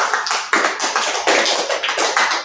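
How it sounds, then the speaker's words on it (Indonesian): Applause in a classroom during a micro-teaching practice session: a short burst of close, crisp clapping from a small group, rising and falling in uneven rhythm for a couple of seconds. "terus kami beri aplaus untuk Mas sekarang"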